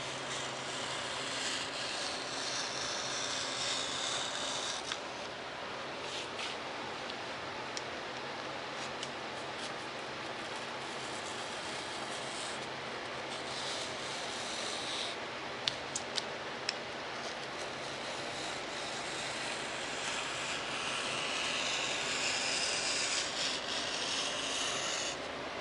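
A blade slices steadily through sheet material, likely balsa or foam, while parts are cut out for a Fokker D7 WWI RC biplane model, a soft continuous rasping and rubbing up close with a few small ticks.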